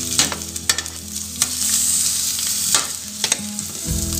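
Vegetables brown in hot oil for a trivet under poultry, a close, steady sizzle punctuated by sharp stirring clacks and scrapes against the pan.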